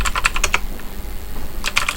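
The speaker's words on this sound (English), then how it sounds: "you need to type the passphrase you have set before" Quick bursts of keystrokes on a computer keyboard as a passphrase is typed, a cluster of taps, a brief lull, then another run of clicks, close and fairly loud.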